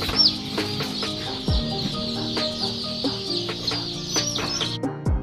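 Several chickens cluck repeatedly at close range during debeaking, their short calls overlapping in an uneven rhythm, with a few higher chirps mixed in.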